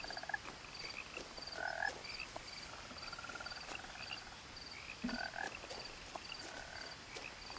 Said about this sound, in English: Какие сочные лягухи.